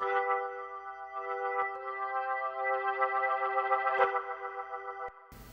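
A held Hammond B3 organ chord washed in long, spacious plate reverb, sitting back and diffuse, with slight swells and no voices.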